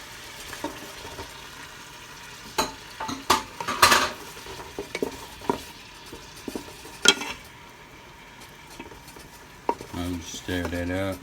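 Onions and garlic sauté in melted fat in a pan for Filipino sopas, with scattered clinks and scrapes of a utensil stirring against the pan over a soft sizzle, and a brief bit of talking near the end.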